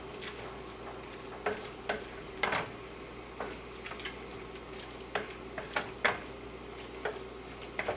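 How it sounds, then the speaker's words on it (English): Vegetables cooking in a pan with vegetable broth or white wine, a low steady sizzle broken by sharp intermittent scrapes and clinks of a utensil stirring. "Okay, now stir all of this up."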